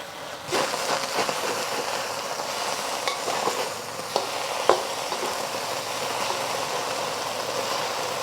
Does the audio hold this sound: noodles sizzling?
yes